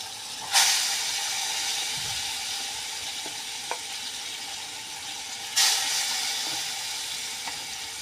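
Potatoes and pointed gourd fry in hot oil in a wok, with two sharp bursts of loud sizzling as food hits the oil. A continuous hissing crackle fills the gaps, with faint clinks of a utensil.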